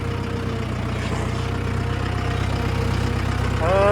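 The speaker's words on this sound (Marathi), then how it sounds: "आपला जो ट्रॅक्टर आहे तर तो आपण वावरामध्ये आणलेला आहे" A tractor engine idles in a maize field, a steady close low diesel rumble with a regular throb that rises slightly near the end, with no talk.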